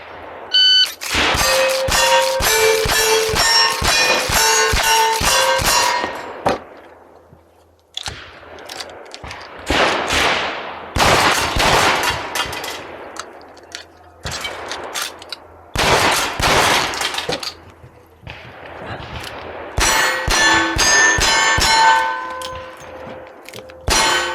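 Rapid gunshots crack out in loud bursts with sharp metallic clangs of steel targets during a cowboy action shooting stage, strings of fire separated by short pauses, with a few spoken words between strings.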